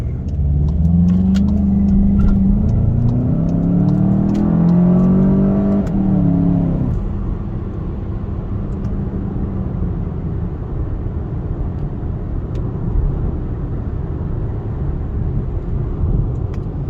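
A car engine, from either a 2019 VW GLI or a 2004 Infiniti G35 with a six-speed manual, revs and accelerates hard, pitch climbing for several seconds, then settles into a steady, lower rumbling drive with no talking.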